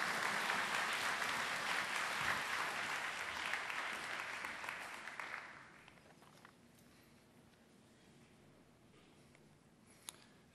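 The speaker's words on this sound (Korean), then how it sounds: "우리 큰 박수로 한번 격려합시다." Congregation at a Wednesday church service applauding warmly, a steady wash of clapping that fades out after about five seconds into quiet hall ambience.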